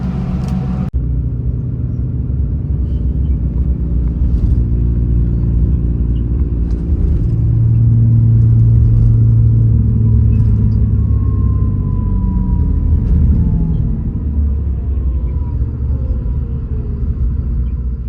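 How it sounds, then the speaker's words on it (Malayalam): Volvo 9600 bus pulling into a parking area in Hyderabad, its heavy diesel engine rumbling steadily and close, swelling briefly in the middle before settling back to a low idle drone. "ഇവിടെ നമ്മൾ പാർക്കിങ്ങിൽ വണ്ടി ഇട്ടുകൊണ്ടിരിക്കുകയാണ് കേട്ടോ"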